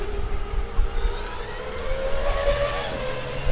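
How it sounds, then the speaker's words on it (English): A race car with a crunchy drivetrain whines and grinds past at an autocross event, its engine pitch rising and falling with a harsh, crunchy mechanical edge over low rumble. "That really sounds like a very crunchy drivetrain indeed."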